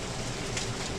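Steady rainfall outdoors during a hurricane in Louisiana, a soft continuous patter and hiss of drops at moderate distance, brief and unbroken, with no one speaking.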